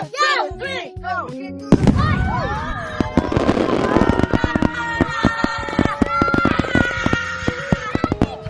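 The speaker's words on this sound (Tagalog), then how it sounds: "may pa-fireworks pa sila" A fireworks show over Busan, heard from a yacht, begins with loud whistling launches, then bursts into dense, rapid crackling bangs and booms that keep going, with voices audible near the start.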